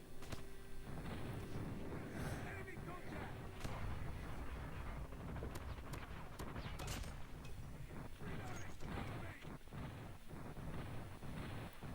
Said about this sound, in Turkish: Patlıyor habire. Oraya patlama emri verdim. Yani hava desteği.